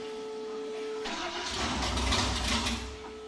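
A race car engine cranks and fires up, then settles into a loud, rumbling idle held at a steady low throttle, close by.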